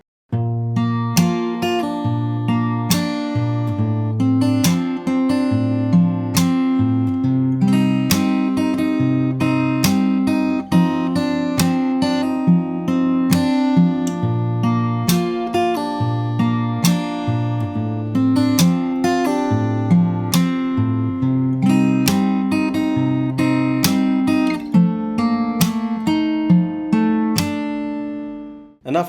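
Fingerstyle acoustic guitar plays the second verse of a song, steady picked bass notes under ringing higher strings, close and clear, alone with no talk.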